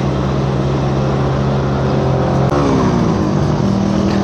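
A Suzuki Raider motorcycle engine revs loud and close on Kennon Road, a continuous roar with the pitch climbing after a shift partway through.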